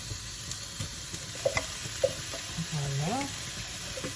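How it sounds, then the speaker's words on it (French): Onions frying in oil from canned tuna, a soft steady sizzle with a few stirring clicks in a quiet kitchen, and a voice speaking briefly. "je vais mettre un petit peu d'huile du thon avec les oignons"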